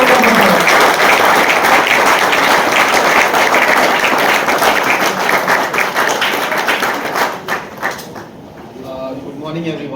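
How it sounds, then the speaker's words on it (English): Seminar audience in a civil engineering department applauding a guest speaker, a dense crowd clapping that holds for several seconds, then thins and fades as a voice begins speaking near the end. "Give him a huge round of applause."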